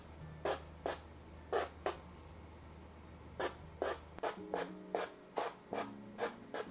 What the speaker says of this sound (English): it's just a matter of patiently spending the time to put in all of the pencil strokes.